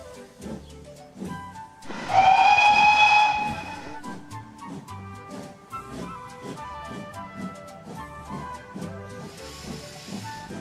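A loud, sustained steam whistle shrieks for about two seconds over rhythmic mechanical chugging, followed by a fainter hiss of steam near the end.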